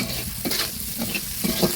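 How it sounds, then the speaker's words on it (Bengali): Gentle, steady sizzling of pointed gourd peels with turmeric and salt frying slowly in a pan over low heat, with soft stirring scrapes now and then. "এগুলো হালকা জালে আস্তে আস্তে ভেজে নেব"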